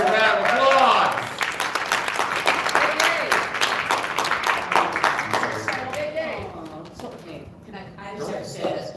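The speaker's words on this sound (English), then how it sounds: "Give a round of applause." Audience at a Detroit China Day event breaking into applause, a loud burst of many hands that gradually thins and fades, with a speaker's voice talking over the clapping as it dies down.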